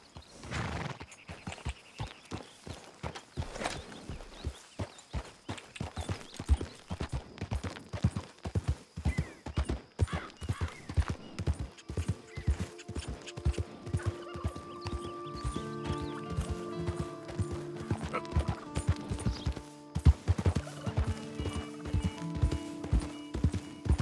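Rhythmic hoofbeats of a galloping horse in the video game Red Dead Redemption 2, steady and close, with a brief whinny and some background music rising partway through.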